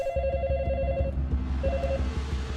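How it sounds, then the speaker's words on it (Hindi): A telephone rings in a dubbed Hindi film scene, a bright repeating tone over a steady low hum, sounding twice in quick bursts with no voices. "डॉक्टर सैम को फोन लगाओ।"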